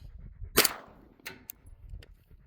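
Gunshots from a rifle or pistol fired outdoors at a target, with one loud sharp crack followed by a few fainter, shorter reports spaced across a couple of seconds, no talking.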